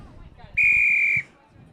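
A single sharp, loud referee's whistle blast at a polo match lasting about half a second, rising abruptly over faint background chatter and then cutting off, ending a chukker.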